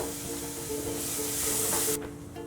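Minced garlic sautéing in a hot pan, a steady close hiss of sizzling with light stirring scrapes, rising briefly and then cutting back near the end.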